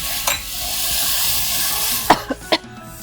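Mushroom biryani fries in a pan with fresh mint and coriander leaves, giving a steady close sizzle, then a few quick scraping stirs near the end.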